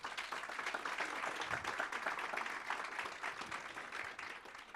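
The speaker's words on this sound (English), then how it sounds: "Can we give them a huge clap?" Scattered clapping from an audience at a national planning indaba and young planners awards ceremony, honouring award winners; steady, moderately quiet applause lasting throughout with no speech over it.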